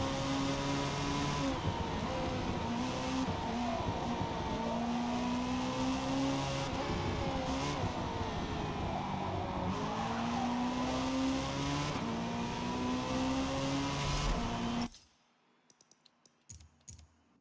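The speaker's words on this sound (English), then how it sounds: "When you start hearing the single tire screeching on decel in a corner" A Lancia Delta racing car engine in the Forza Motorsport racing game roars steadily with a single tire squealing under deceleration through a corner, loud and continuous, then cuts off abruptly near the end.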